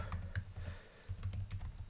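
Code being typed on a computer keyboard for a Python Pygame tutorial: soft, quick keystrokes in irregular bursts with a short pause midway, fairly quiet and close, no speech.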